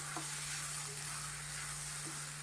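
Goan prawn chilly fry with tomato and fresh coriander sizzles in a pan as it is stirred, a constant broad hiss with a couple of soft scraping strokes of the spoon and a low hum underneath.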